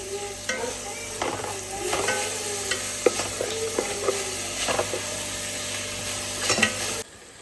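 Onions fry with a steady sizzle while a spoon scrapes and stirs them in a large pot, with irregular clatters and bumps.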